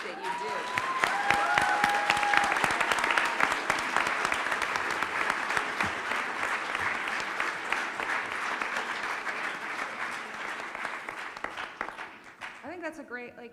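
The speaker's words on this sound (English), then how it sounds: "I think we should give you a round of applause for the work that you" Audience applause at an Earp Family convention panel, a dense, sustained clapping crowd that swells early and holds steady for over ten seconds before tapering, with voices briefly audible near the start and end.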